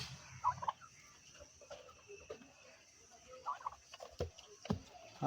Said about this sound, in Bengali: ওই হচ্ছে এক পিস সিঙ্গেল টার্কি